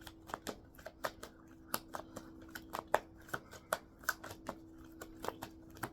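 Tarot cards are shuffled close up in quick, irregular riffles and taps, a crisp flutter of card edges repeating quietly throughout with no talk.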